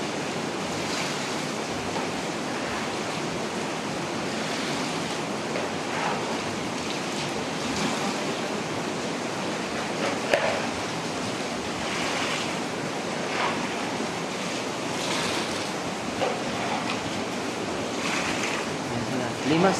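Rushing floodwater roars continuously and loudly, a dense broadband wash with occasional surges and no voices.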